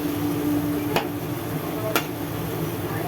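A chop fritter frying in oil over a medium flame, a steady soft sizzle with two sharp clicks of a utensil about a second apart.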